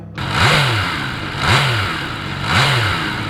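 An MV Agusta Turismo Veloce's inline three-cylinder 798cc engine revs three times in quick succession, each rise climbing and falling back toward a rumbling idle, loud and close.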